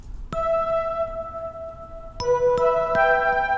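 The Smooth Colors multi-patch in HALion Sonic 7 plays a top-line melody of bell-like, chiming notes: one long ringing note, then several more struck in quick succession, each decaying clearly.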